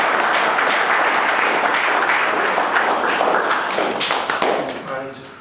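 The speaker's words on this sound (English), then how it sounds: "So a massive round of applause please for Reese" Audience applause for a choir member at a voice choir's 10th anniversary awards ceremony, dense steady clapping that fills the room and then tapers off toward the end.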